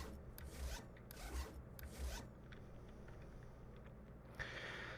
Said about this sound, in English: it's a zip unzip